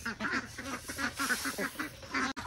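A flock of large domestic ducks quacks busily while being fed paddy, with rapid overlapping close calls in short bursts.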